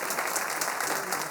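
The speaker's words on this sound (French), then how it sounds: "on va l'applaudir" Short, steady round of applause from a concert audience at an autumn choir performance, greeting the choir's tenor; many hands clapping evenly at moderate loudness with no talking.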